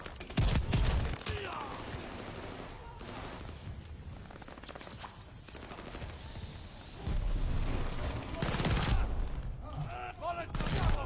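Rapid gunfire and explosive bursts in Call of Duty: Vanguard multiplayer, loud and near at the start and again toward the end, with voices talking over the steady battle noise.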